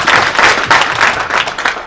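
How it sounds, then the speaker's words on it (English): A group at a university humanities faculty gathering claps for Pamela, a close, loud round of applause that pulses in a quick, fairly regular rhythm. "Let us clap for Pamela."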